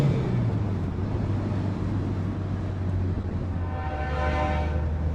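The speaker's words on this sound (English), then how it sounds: "That's our local train that goes by 5, 6, 7 times a day." A local train rumbles steadily past close by, with a long horn blast sounding near the end over the continuous rolling noise.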